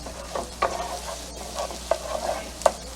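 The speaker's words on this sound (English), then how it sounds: "Stir this up. You can see the onions are starting to caramelize." Onions caramelizing in a frying pan over medium heat for a patty melt, sizzling steadily while a utensil stirs and scrapes them in several distinct strokes, close and clear with no talking.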